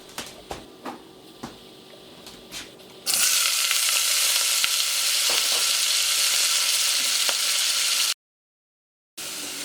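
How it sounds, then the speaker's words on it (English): Potatoes fry in white oil with a loud, dense, even sizzle that starts abruptly after a few quiet clinks and keeps a constant hiss, cut off briefly near the end. "So first I will fry the potatoes, and I am using white oil for this."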